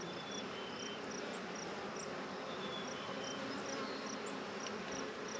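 A dense, steady buzz of many honeybees around a hive fills the air close by, constant and even throughout.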